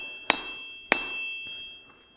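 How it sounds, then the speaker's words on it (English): Two sharp, ringing hammer blows strike the edge of a cheap, unbolted anvil during a cut test, spaced about half a second apart. Each impact is loud and bright, followed by fainter metallic taps and a lingering tone. "we're gonna go ahead and do a cut test on the edge since the edge is so sharp"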